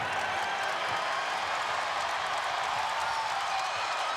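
A basketball crowd at PNC Arena roars and applauds for NC State against Miami, a continuous loud wash of cheering and clapping that fills the whole clip.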